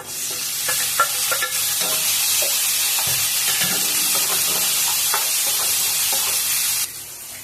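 Chopped tomato sizzles and fries in a pan with turmeric and curry leaves for tomato rice, a steady close hiss with stirring scrapes throughout, stopping abruptly near the end.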